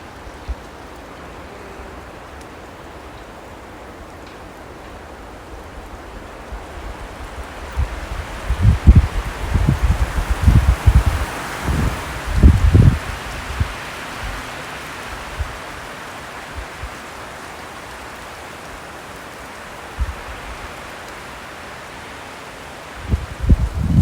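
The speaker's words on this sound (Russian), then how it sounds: "Все хорошо в сосновом лесу, но когда ветер сильный гуляет" Strong gusty wind rushing through a pine forest in a storm, swelling into louder bursts midway and again near the end, with no voices.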